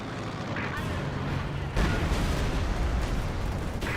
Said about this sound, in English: Yep, mortar.